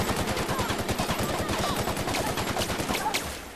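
A pistol fires repeatedly in the video game The Outer Worlds, a rapid, steady string of loud shots close up, with brief talk faintly underneath.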